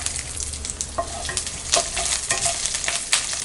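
Mustard seeds, cinnamon, cloves, bay leaf, green chili and curry leaves tempering in hot oil for a Tamil dish, a dense continuous crackle and sizzle with quick spluttering pops and stirring scrapes.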